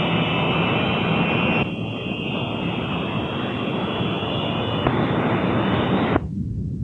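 The jet engines of a 1952 B-47 Stratojet roar steadily at takeoff power, a loud, dense, unbroken rush with a few abrupt shifts in tone before it suddenly cuts off near the end.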